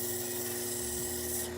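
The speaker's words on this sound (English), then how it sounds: "Just take the sandpaper and let it do the job." Sandpaper is worked slowly across a bevel at a repair bench, producing a continuous close rasping rub under a steady background hum.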